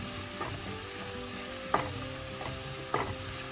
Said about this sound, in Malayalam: എല്ലാം കൂടെ ചെറിയ സിമ്മിലിട്ട് നന്നായി വഴറ്റുക.